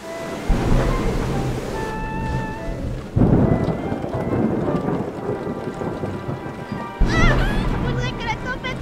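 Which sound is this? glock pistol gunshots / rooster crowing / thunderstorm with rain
thunderstorm with rain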